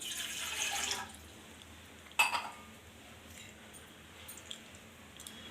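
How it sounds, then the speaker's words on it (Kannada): A glass of water is poured into a pan for tea: a short splashing pour at the start, then a sharp metallic clink of the glass or pan, followed by a quiet kitchen background with faint small taps. "ಒಂದು ಲೋಟ ನೀರು ಹಾಕ್ಕೊಳ್ಳಿ."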